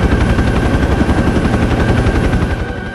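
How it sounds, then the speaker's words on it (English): Attack helicopters and machine-gun fire in the military shooter game Project Reality: a steady, loud rotor drone with dense, rapid bursts of automatic gunfire layered on top, continuous throughout. "we got attack helicopters"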